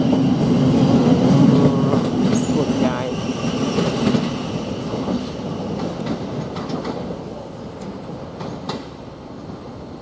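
A passenger train rumbles and clatters past nearby through Three Bridges railway station, its rolling noise gradually fading, while someone speaks briefly over it.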